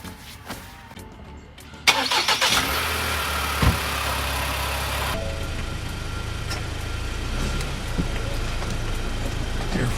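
A car engine starts after an oil change and settles into a steady, continuous idle, close by and fairly loud, with a brief rise in pitch near the start and a small knock partway through.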